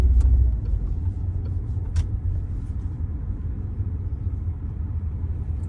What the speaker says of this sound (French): là je vais dépasser le camion et on va pouvoir tester le parallélisme du véhicule